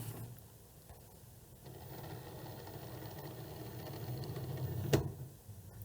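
Cricut cutting machine loading and measuring sticker cardstock, a low mechanical whir that starts and holds steadily for several seconds, ending in a short knock and a brief faint grinding, with no talk.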